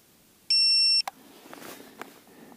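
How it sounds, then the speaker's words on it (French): A Hubsan Zino drone's radio controller powers on with one loud, steady half-second electronic beep, followed by a click and soft handling noises nearby. "J'allume la radio."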